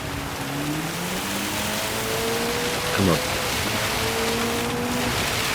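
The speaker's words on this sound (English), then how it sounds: "Oh, the rain is beasting down, look at this." Heavy rain hisses steadily over a racing car in Gran Turismo 7, an Alpine 220 from 1968, its engine tones droning and shifting beneath the downpour while someone speaks briefly.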